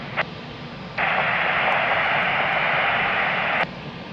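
An airliner landing on runway 02 at Lisbon Airport gives a broad steady engine roar that rises abruptly, holds loud for a few seconds, then cuts off sharply, with a faint radio blip before it.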